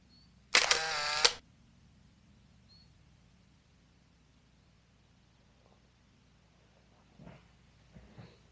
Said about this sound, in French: je vais tout de suite sortir l'appareil photo